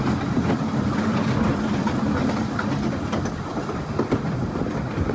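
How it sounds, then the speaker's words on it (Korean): An old mini train rattles along its rails in Wulai, Taiwan, a steady close clatter of wheels and creaking carriage with irregular knocks and clicks over a rumbling base, no voices. "저는 처음에 이 미니 기차를 탔을 때에는 시설이 낡아 덜컹덜컹"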